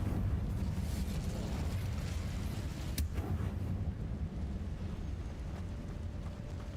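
An Incendio fire spell in a Hogwarts video game blasts as a continuous low roaring rush, with a single sharp crack near the middle before the roar eases slightly.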